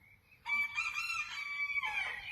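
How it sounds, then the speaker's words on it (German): A rooster crows in one long, loud call close by, rising sharply and holding for nearly two seconds before trailing off, with no talk over it. "Es geht wirklich nicht. Der ist nur am Krähen."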